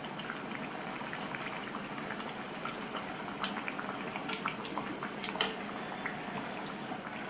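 Vada deep-fry in hot oil with a steady, fine, fizzing sizzle and scattered light crackles and pops throughout, even and close with no talking.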